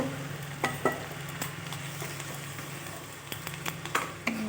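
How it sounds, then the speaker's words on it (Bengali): Papaya frying in a pan sizzles steadily after a small splash of water is added, with scattered sharp spoon-and-pan clicks over the continuous close hiss. "এবার আমি এখানে একটু জল অ্যাড করব বেশি না অল্প পরিমাণ জলটা দেব"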